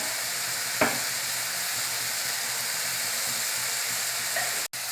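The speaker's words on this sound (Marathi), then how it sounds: "आता याला मिक्स करून घेऊया आपण" Radish leaves and salt get stirred in a hot pan, giving a steady close sizzle with a soft scrape near the start and a brief clink near the end.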